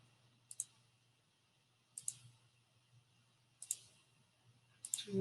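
Computer mouse clicks on points in geometry software, sharp double clicks spaced about a second and a half apart over a faint low hum.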